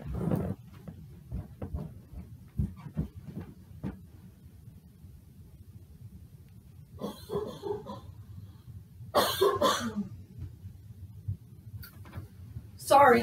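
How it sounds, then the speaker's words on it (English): Several short coughs and throat clearings from a person who is ill, some in quick clusters, with quiet breathing between and a brief burst of speech near the end. "Let me clear my throat."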